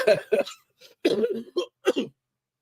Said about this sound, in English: Somebody keep track of how many times I coughed